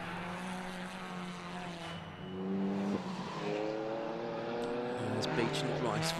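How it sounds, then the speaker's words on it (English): A BMW M4 race car passes on the Croft Circuit track at a 750 Motor Club race, its engine note rising and shifting loudly over several seconds beneath steady commentary. "There's the 70 car, the BMW M4 going through."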